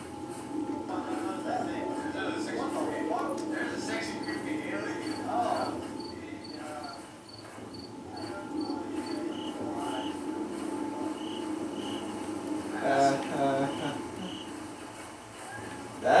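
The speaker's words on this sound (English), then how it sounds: "When the cricket goes, that's a big no-no." Steady cricket chirping in the horror game Slender: The Arrival, a constant mid-level insect drone with faint repeated beeps and some rustling, with no talk over it.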